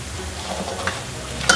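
Mixed vegetable pakoras frying in hot oil, a close, steady bubbling sizzle with a brief clink of a utensil near the end.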